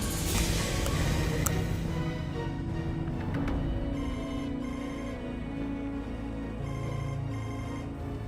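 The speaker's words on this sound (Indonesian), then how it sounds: "Aku harus telepon Adnan." A phone ringtone plays steadily in a tense drama scene, a sustained electronic melody with repeating tones over a dense, loud background, no talk over it.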